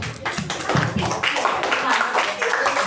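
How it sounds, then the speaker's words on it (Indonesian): A group in a classroom claps hands in uneven, overlapping bursts, close and fairly loud, with voices talking over the clapping. "Silakan yang paling atasnya tepuk tangan."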